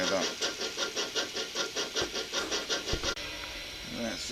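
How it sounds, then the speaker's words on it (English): An N gauge model train chuffs in a quick, regular rhythm close by on its track, then gives way to a steadier hiss and rumble near the end. "Let's just see the train passing through Colville Station."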